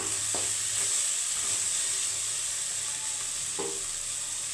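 A steady, loud sizzle of potatoes frying in a pan, with a few clinks of a utensil stirring.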